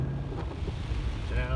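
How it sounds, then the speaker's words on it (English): Gusty wind buffets the microphone on an outdoor walk down a hill road, a short low roar with a faint voice underneath. "A little bit windy"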